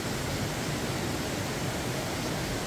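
Cachoeira do Ribeirão waterfall in Condado do Norte, Minas Gerais, a steady broadband roar of falling water, dense and unbroken, filling the scene up close with no other sounds.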